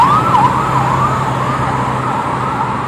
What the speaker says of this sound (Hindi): दो दो एम्बुलेंस इकट्ठी आ रही है